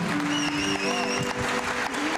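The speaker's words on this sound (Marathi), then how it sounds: "आपण एकदा विशाल गणरत्वार यांच्याकरता टाळ्या वाजू" Audience applause at a Pune Idol 2024 grand finale singing contest, sustained dense clapping from a crowd throughout, with a musical tone and some faint voices mixed in.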